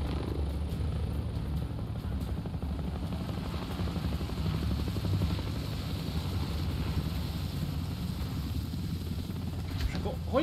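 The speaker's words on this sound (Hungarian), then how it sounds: "Ott mennek a helikopterek, megjönnek utánuk kocsival." Helicopters fly overhead in the video game House of Ashes, giving a continuous low, pulsing rotor rumble with a windy whoosh that stays steady and fairly loud throughout.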